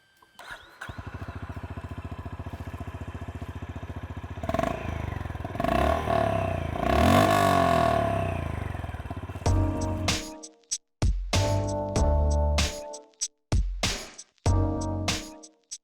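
A Honda H'ness CB350 motorcycle starts up, idles with a steady thump, then revs hard in several rising bursts before settling into short, sharp blips of the throttle, loud and close with no talking.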